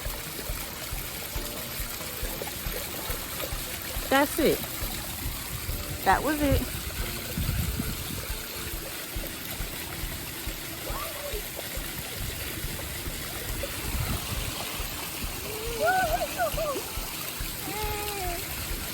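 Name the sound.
water stream splashing at botanical garden splash area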